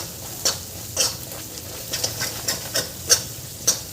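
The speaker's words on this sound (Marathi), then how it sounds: "हे मसाले 1 मिनिट छान परतून घ्यायचे आपल्याला" Spices and gravy masala fry in a pan for dum aloo, a soft continuous sizzle punctuated by about eight evenly spaced scraping stirs of a spoon against the pan, close and clear with no talk.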